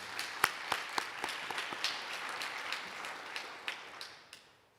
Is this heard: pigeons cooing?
no